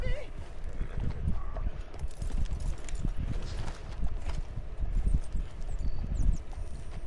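Horse hooves in the video game Red Dead Redemption 2, an irregular clatter of hoofbeats running through the whole stretch under game sounds and talking voices.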